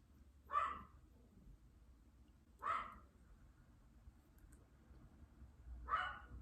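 A dog gives three single barks spaced a couple of seconds apart, each short and sharp, at moderate distance against a quiet room hum, with no voices.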